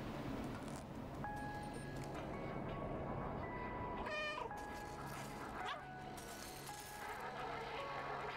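A cat meows a few times in the video game Stray, short tonal calls over a constant background of game ambience and music, fairly quiet overall.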